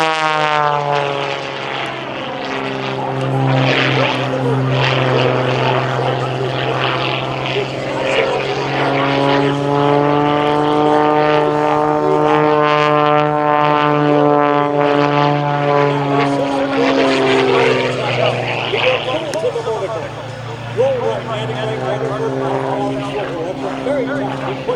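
A propeller airplane performs an upright flat spin at the 2023 Dayton Air Show, its loud droning engine note wavering and shifting in pitch. An announcer talks throughout over the engine.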